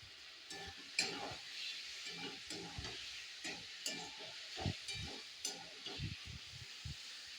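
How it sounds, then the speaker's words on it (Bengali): Chicken with spices frying in a pan, a steady sizzle running under repeated bursts of stirring and scraping, close and fairly quiet. "এই দেখো চিকেন কষা হচ্ছে"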